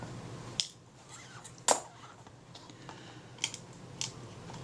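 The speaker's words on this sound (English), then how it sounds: "Take the screws either end of the top cover" Small screws being removed from the top cover of a Kodak Retina IIa camera, a few sharp faint metallic clicks and ticks spaced apart over quiet background.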